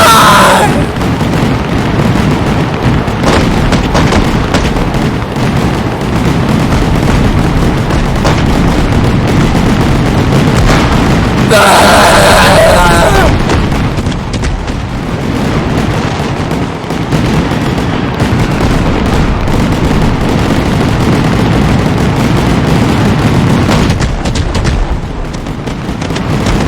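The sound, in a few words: fireworks and explosions in video game Firework Mania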